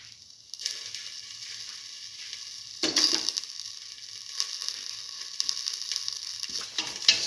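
Fennel seeds hit hot oil in a pan and sizzle steadily, with a sharper burst of frying and faint stirring scrapes partway through; the sound is close and continuous, with no talk.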